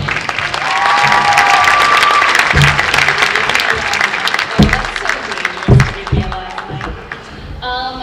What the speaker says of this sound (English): Another round of applause for these amazing musicians.